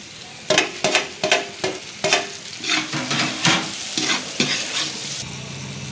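Onions and tomatoes stirred and fried in a pan for beetroot masala curry: a steady sizzle broken by repeated scraping spatula strokes, close and fairly loud, with no talking.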